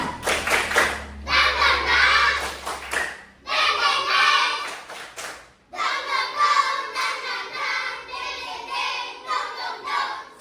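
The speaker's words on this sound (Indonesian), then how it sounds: "Oke, ibu mau tepuk semangat dulu ya." Schoolchildren in an Indonesian classroom perform a tepuk semangat spirit clap, loud rhythmic bursts of group clapping in three runs separated by short pauses, with children's voices chanting along.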